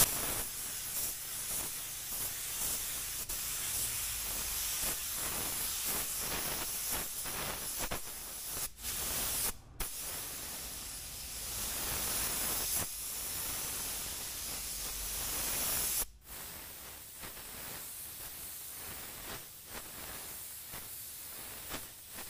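An LVLP spray gun lays sealer onto a car panel at home, giving a loud, airy hiss in repeated long passes broken by brief pauses between strokes, with no talk.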